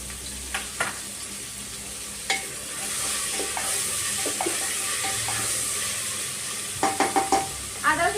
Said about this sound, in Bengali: একটু পেস্ট দিয়ে কিন্তু একটু ভালোভাবে নাড়াচাড়া করে নিতে হবে